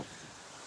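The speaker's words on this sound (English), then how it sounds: "it's a little windy here" Wind buffeting a microphone outdoors on a breezy Canada Day, a brief, soft, broadband rush with no voices.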